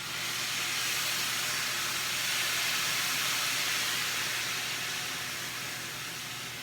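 Dry Riesling poured all at once into a hot pan of spring pea risotto with pancetta, a loud steady steaming hiss that swells and then slowly eases as the wine reduces.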